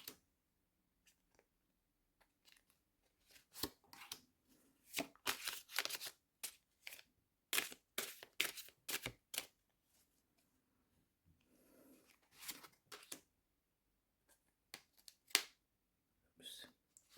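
Tower of the Abyss tarot cards being shuffled and drawn, a series of crisp papery riffles and flicks in irregular bursts, fairly close, with quiet gaps and a brief murmur of speech midway.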